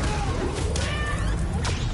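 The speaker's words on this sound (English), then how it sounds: "Oh my gosh, this cat." A cat meows in the Spider-Man: Miles Morales video game, with faint rising cries rising out of a steady, busy game background in a loud mix.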